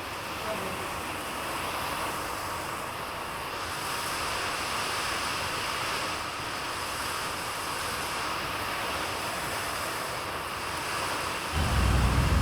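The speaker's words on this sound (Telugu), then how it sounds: "కానీ వర్షం అయితే తగ్గట్లేదు." Steady, dense roar of heavy rain filling the whole clip, continuous and broadband with no pauses, growing slightly louder at the very end.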